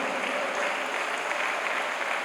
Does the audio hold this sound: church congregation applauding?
yes